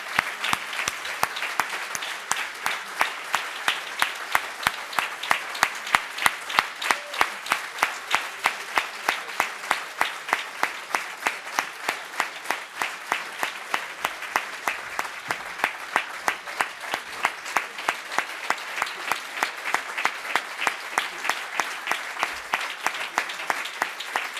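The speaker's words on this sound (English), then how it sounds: "give him a big applause for all the work that he's done at the head of the PES" A conference audience claps steadily and evenly for over twenty seconds to honor a departing party leader, the dense crowd applause holding at a constant, full level throughout.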